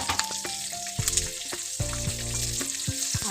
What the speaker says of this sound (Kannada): ಸೊ ನೋಡಿ ಇದು ಕ್ಯಾಪ್ಸಿಕಮ್ ಮತ್ತು ಕ್ಯಾರೆಟನ್ನು ಈ ಆಯಿಲ್ ಅಲ್ಲಿ ಹಾಕೊಳ್ಳೋದು